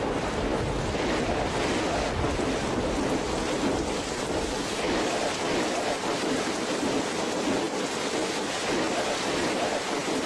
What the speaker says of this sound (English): torrents of water spilled downward with sweeping force